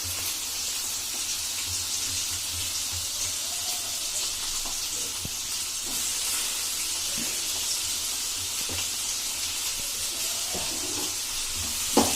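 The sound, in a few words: onions sautéing in hot oil for bitter gourd bhaji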